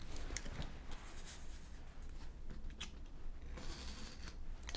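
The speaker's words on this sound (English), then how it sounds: "I'll bring my knife, and because here is the connection, I'm going to cut here." A knife slices through a cardboard box with scraping, tearing cuts in short, irregular strokes, quiet and close, with scattered clicks between them.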